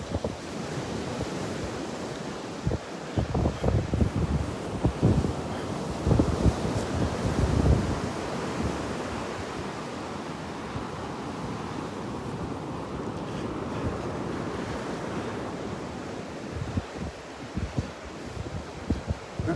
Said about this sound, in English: That wind is coming out of the north.